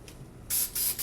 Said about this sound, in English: I just wanted to be able to spray properly the Super 7, which is a great adhesive.